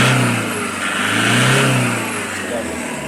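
A Toyota Hiace's 2KD D4D diesel engine, suffering low power, revs up close by, the engine note rising, swelling and then easing back over a few seconds, with a voice heard in the background.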